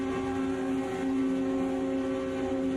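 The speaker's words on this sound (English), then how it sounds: "I'm hearing a lot of cars revving up." Race car engines idling and revving in the Automobilista 2 (AMS2) racing game, a steady held engine tone with strong harmonics at moderate level, no talk over it.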